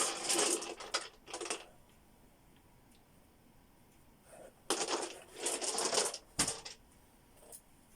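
Three dice are rolled, clattering in two clusters of sharp rattling bursts separated by quiet, close and fairly soft.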